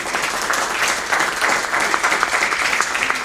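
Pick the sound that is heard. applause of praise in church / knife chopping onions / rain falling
applause of praise in church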